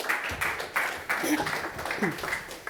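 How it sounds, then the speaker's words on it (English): Audience applause greets a guest joining the stage at a deep tech start-up and investor event, a steady spread of clapping with a voice speaking over it. "A big applause"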